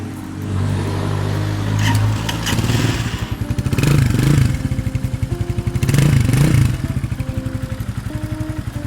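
A 2019 GPX Legend 200 motorcycle engine idles with a rapid, even putter and is revved twice, each blip rising and falling, heard close and alone.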